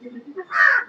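A crow caws once in the Roblox Bedwars video game: a short, harsh call that rises suddenly out of quieter low murmuring and lasts under half a second.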